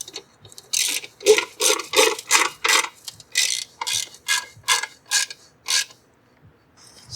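Ratcheting wrench tightening saddlebag mount bolts on a Harley Dyna Fat Bob, a series of about a dozen sharp clicking ratchet bursts in quick rhythm, close and clear, fading to quiet at the end.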